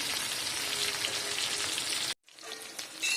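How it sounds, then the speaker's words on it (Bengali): Pointed gourd (potol) pieces fry in oil with a bright, even sizzle and crackle up close, broken by a sudden brief silence before the frying resumes more quietly. "এখানে পটল ভাজা হয়ে গেছে তো পটল ভাজাগুলো আমি তেল থেকে তুলে নিচ্ছি"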